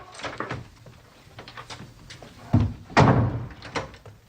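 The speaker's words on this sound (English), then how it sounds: "Now go on and shut the door." A door is shut in a quiet room, a loud solid thump landing after a few softer bumps and shuffles, then a second heavy knock follows close behind.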